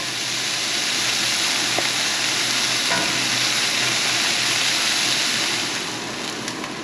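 Elk burgers sizzle over an open fire in a steady, loud, close hiss, with a couple of faint scraping clicks as patties are flipped.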